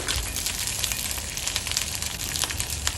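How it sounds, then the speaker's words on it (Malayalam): Garlic and curry leaves frying in a hot pan give a dense, continuous sizzle and crackle, close and steady, with no voices. "കരുവേപ്പില മൂത്ത് വരുമ്പോൾ നമ്മൾ വെളുത്തുള്ളി ഇടും വെളുത്തുള്ളി ഒന്ന് മൂപ്പിക്കുക"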